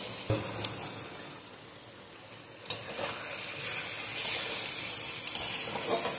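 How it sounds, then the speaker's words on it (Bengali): Ground ginger, cumin and chili paste for a Bengali fish curry fries in a pan with a soft, steady sizzle, punctuated by a few clinks of stirring. "এবারে এই মশলাটাকে আমি কষাবো।"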